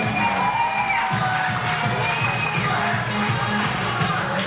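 A crowd at a Korean first-birthday party (doljabi ceremony) in a buffet hall claps and cheers continuously, loud and close, with some shouting mixed into the sustained applause.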